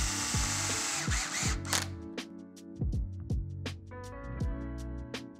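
A power drill whirs in short bursts, starting and stopping repeatedly as it drives screws while installing a 4x4 boost transmission upgrade set, with clicks and rattles between the spins.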